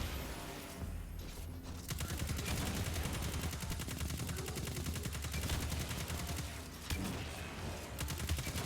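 Cabal enemies firing at the player in Destiny 2: a dense, continuous barrage of rapid gunfire, loud and close, with a brief lull near the start and another just before the end.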